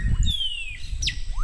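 Several birds call around a jungle lodge in Belize: clear high whistles and chirps, some sliding down in pitch and one rising sweep, over a soft low background rumble.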